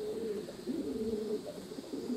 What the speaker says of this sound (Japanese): この最後の 15羽だか20羽ぐらいの鳩、これがぐるぐる回ってまして